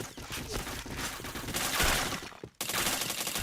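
Rapid video game gunfire crackles in dense bursts throughout, building in the middle, cutting out for a moment and then resuming, with no talking.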